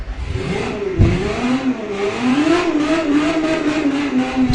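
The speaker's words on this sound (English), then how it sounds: "That's a V8, mate. Doesn't sound like one, though, does it?" A V8 engine in the car-building game Automation revs in a steady rising and falling drone, close and loud, with a short blip near the start.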